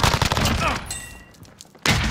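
Video game gunfire from Call of Duty: Modern Warfare, loud and dense with sharp bursts in the first half, then a quieter stretch before a fresh blast of shots near the end.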